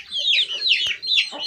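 An English Game hen clucks in a few quick, close, moderately loud bursts, with no one talking.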